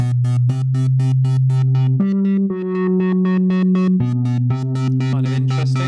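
A buzzy synthesizer line from Logic's Retro Synth steps through a few pitches while its filter opens and closes in rhythmic pulses, bright and loud with no voices.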